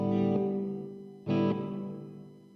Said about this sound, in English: I'm just gonna put a reverb on it.